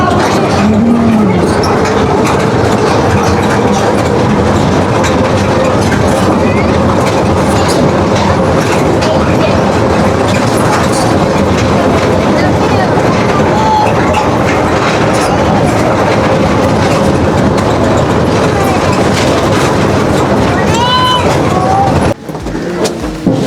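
A passenger train running along the line toward Rasulpur railway station, with steady rolling rumble and rhythmic clickety-clack of wheels over rail joints throughout, loud and close from inside the carriage, with faint voices in the background.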